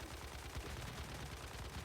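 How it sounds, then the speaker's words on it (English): Explosions in the video game Once Human come as a dense, quiet stream of rapid overlapping bursts and thumps, steady throughout with no talking. "You can tell we are getting more explosions."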